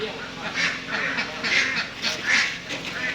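Ducks quack repeatedly at a laying-duck farm in Thailand, a flock of overlapping nasal calls in bursts, fairly close, with a voice talking over them.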